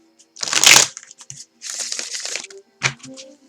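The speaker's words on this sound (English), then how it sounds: "I'm going to shuffle nice and easy." Tarot cards being shuffled in soft, riffling bursts: a loud flurry near the start, a longer rustling stretch in the middle, and a short final snap, close up with no talking.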